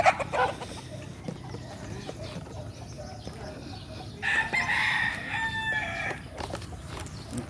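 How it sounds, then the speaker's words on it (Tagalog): Chickens cluck and murmur nearby while being fed over a low outdoor rumble, with a rooster-like call rising briefly in the middle. "Ganyan lang mapakain ng manok,"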